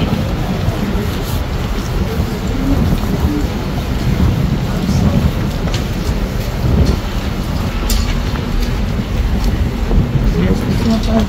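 Strong wind buffets the microphone at the port in Juneau, Alaska, a steady loud rumble running throughout, with voices talking faintly beneath it.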